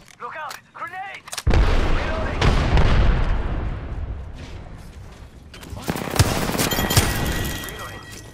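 Video game firefight with heavy bursts of gunfire and a booming grenade explosion, loud and sustained over several seconds, with brief shouted voices at the start before the blast takes over.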